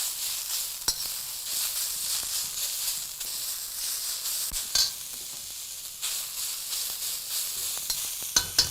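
Vegetables for veg chow mein stir-fry on a high flame, giving a steady loud sizzle with scattered scraping clicks and a few sharper hits from stirring.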